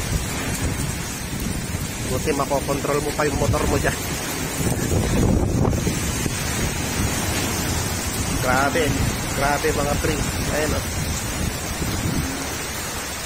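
Heavy typhoon rain and gusting wind roar continuously in Sanchez Mira, Cagayan, a dense close wash of downpour and microphone-buffeting wind, with someone talking over it.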